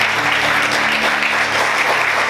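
Church congregation applauding the Lord during a Portuguese-language sermon, steady dense clapping filling the room at close range with a faint hum beneath, no voices standing out.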